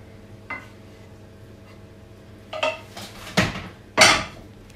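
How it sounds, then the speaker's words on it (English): Stir-fried spinach, mushrooms and spring onion are served onto a plate with a utensil, making a few scattered clinks and scrapes that grow louder toward the end, no speech. "So I'm just going to put a bit of that on the plate."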